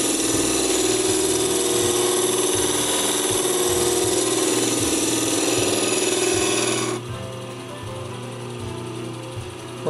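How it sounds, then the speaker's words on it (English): Gemstone faceting machine cutting with a 100 grit lap, a steady loud whirring grind with a rhythmic mechanical tick that drops abruptly to a quieter hum near the end. "I'm cutting with a 100 grit lap"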